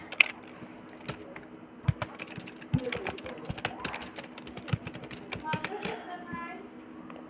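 Fingers type on a computer keyboard in quick, uneven bursts of close, crisp clicks, with a few louder key taps mixed in over a quiet background hum.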